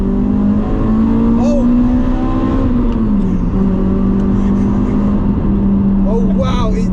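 2004 Toyota Celica VVTL-i 190 T-Sport engine revving hard in second gear at high RPM, a loud, steady, rising engine drone heard from inside the car with a voice speaking over it.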